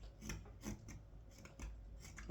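A knife carving a small wooden pocket spoon, with close, quiet scraping and shaving strokes repeating in short bursts.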